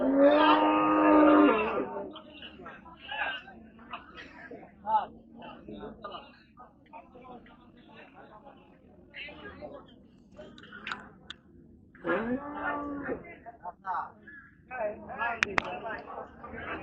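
Cattle moo loudly at a busy livestock market in Palampur, Bangladesh, with two long bellowing calls near the start and again around the middle, over crowd chatter and general market noise.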